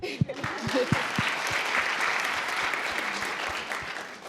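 Audience clapping in a talk-show style gathering: a few sharp individual claps first, then a sustained, even round of applause from the crowd.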